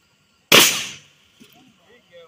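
A .410 shotgun fires buckshot outdoors: one sharp, loud blast that decays quickly, followed by faint quiet sounds.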